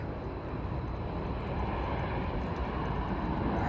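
A Flair Airlines airplane passes overhead near a creek trail, a continuous broad roar of jet engine noise, steady and fairly loud, with no talk.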